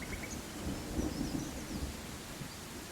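Rain and thunder in the Viking village-building game Land of the Vikings: a steady rain hiss with low rumbles of thunder rolling underneath, swelling slightly in the middle and continuing without any voices.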